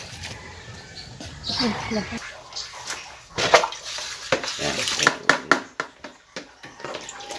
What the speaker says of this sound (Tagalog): hugasan yan sa running water